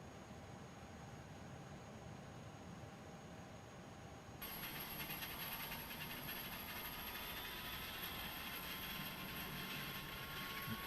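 An Airbus A300-600 jet engine starts up on a UPS freighter in a flight simulator. A quiet low hum gives way partway through to a sudden brighter whine and hiss that holds steady at low volume.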